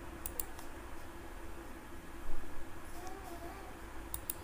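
Computer mouse clicking a dialog's OK button while editing text: a few faint, sharp, isolated clicks over a quiet room background.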